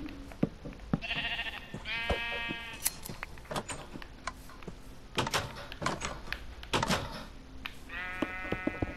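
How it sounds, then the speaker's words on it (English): Sheep in Minecraft let out several wavering bleats that rise over clicking, knocking and thudding game noises, fairly near and clear, with no one talking. "Oh, the sheep. Let me get my shear out."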